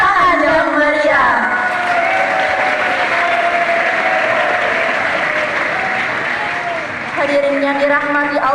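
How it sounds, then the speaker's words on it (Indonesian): Loud, lively applause and cheering from an audience at an Islamic boarding school end-of-year celebration, dense clapping throughout with a sung or spoken voice rising above it at the start and end. "boleh dong kita tepuk tangan yang meriah"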